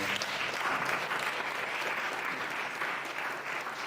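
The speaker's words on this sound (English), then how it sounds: "I would like you to join me in a big round of applause" A roundtable audience at a civil-society workshop on migration gives a big round of applause, a continuous, even wash of clapping at moderate distance throughout.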